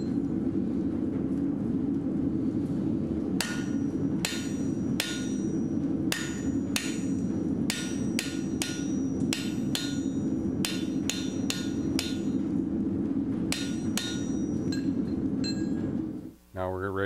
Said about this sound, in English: We're going to take a 1/4 inch wide fuller, and we're going to fuller in a depth of about 1/4 inch.